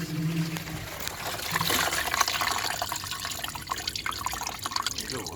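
Coolant pours and spills over while a car's cracked expansion tank is being filled, a close, continuous trickling and splashing of liquid with no break.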